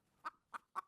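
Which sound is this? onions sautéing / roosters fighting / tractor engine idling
roosters fighting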